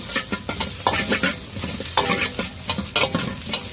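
Egg, onion, capsicum and carrot are stir-fried for street-style prawn noodles, with close, loud sizzling and rapid irregular scraping and tossing strokes of the spatula in the pan.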